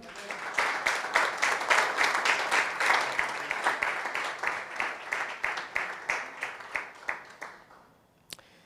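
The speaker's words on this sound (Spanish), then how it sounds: "Damos un aplauso al Señor" A church congregation applauds in praise at a Spanish-language conference service: dense, sustained clapping with some rhythmic, in-time beats, fading gradually toward the end, then one sharp tap.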